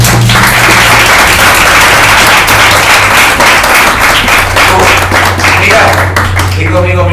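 Loud, steady clapping from a church congregation rolls on throughout, with a low hum and a voice speaking over it near the end.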